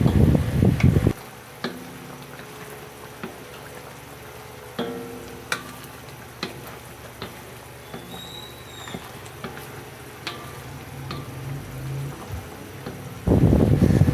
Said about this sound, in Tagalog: Hayaan lang po natin itong kumulo ng kumulo at haluin ng haluin hanggang sa ito ay lumapot.